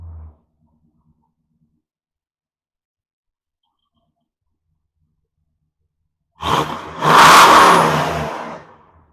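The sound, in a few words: car engine revving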